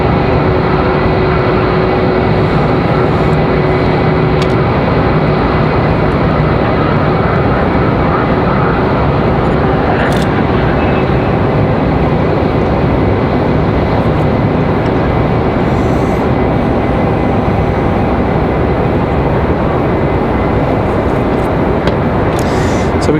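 An Endeavor Air jet from JFK on final approach into Raleigh-Durham airport gives a loud, steady engine roar that fills the whole stretch without letting up.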